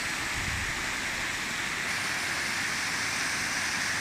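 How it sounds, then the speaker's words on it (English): Water fountains at a Sikh Gurdwara in San Jose give off a continuous, even wash of splashing water, steady and moderately faint throughout, with no voices over it. "you can see the fountains. Very beautiful, lovely fountains, very neat, with an excellent ambience"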